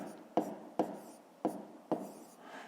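Pen strokes on paper while working a decimal subtraction problem for fifth-grade math: four short scratchy writing bursts in a steady rhythm, close and fairly quiet, with no talking.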